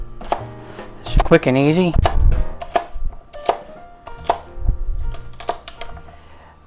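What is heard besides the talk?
knife chopping pot roast into big chunks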